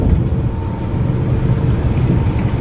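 A car driving on a road is heard from inside, with a steady low rumbling engine and road drone, loud and continuous without any voices.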